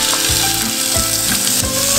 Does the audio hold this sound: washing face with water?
no